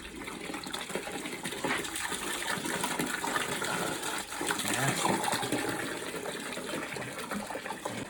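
Dirty black water, thick as tar, gushes steadily from a boiler purge valve into a bucket during a zone valve repair, a continuous rushing splash lasting the whole stretch at close range.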